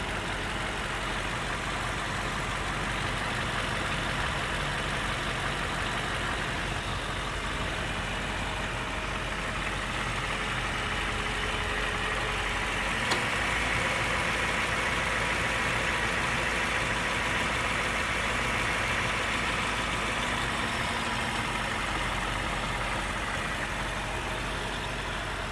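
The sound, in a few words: Toyota Land Cruiser engine idling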